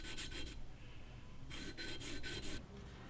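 Fine 600-grit sandpaper rubs against a Marlin rifle part in short bursts of steady rasping strokes: a cluster early on, a pause, then a longer run of four or five even passes, close and moderately quiet.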